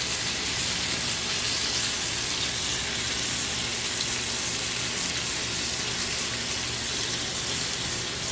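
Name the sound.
Applewood bacon frying in a pan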